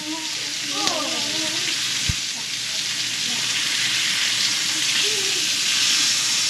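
Thick cuts of meat sear in a hot pan for a Fourth of July lunch, giving a loud, constant sizzling hiss; a brief voice and a single knock of a utensil come through early on.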